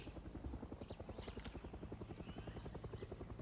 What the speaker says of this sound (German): Hubschrauber.